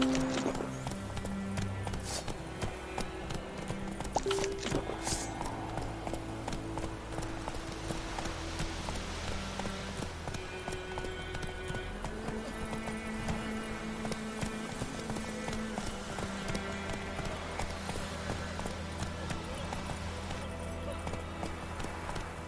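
A horse gallops in The Witcher 3 video game, with steady, rhythmic clip-clop hoofbeats running without a break, joined by a brief neigh and some speech layered underneath.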